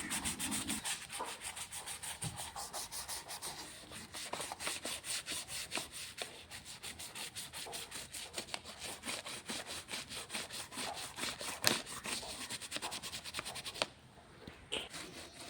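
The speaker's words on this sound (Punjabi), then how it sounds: "ਫਿਰ ਉਹਨੂੰ ਚੰਗੀ ਤਰ੍ਹਾਂ ਬਸ ਬੁਰਸ਼ ਨੂੰ ਪੋਲਾ-ਪੋਲਾ ਰਗੜੀ ਚੱਲੋ" Stiff wet brush scrubbing a dirty plastic electrical switch board, a steady close scratchy rubbing with quick back-and-forth strokes throughout, dropping off near the end.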